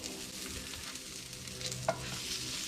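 Food sizzles with cheese in a hot pan, a constant fine crackling hiss at low volume with a small sharp pop near the end.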